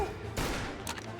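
Gunfire in the Mafia Definitive Edition video game: a dense burst of shots breaks out mid-clip over a loud, busy game soundscape, followed by a second, shorter volley near the end.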